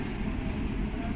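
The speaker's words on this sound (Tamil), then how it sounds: "மெட்ரோ வந்தாச்சு" A Dubai Metro train arriving at a station, a steady broadband rumble and rail noise throughout, with faint voices mixed in.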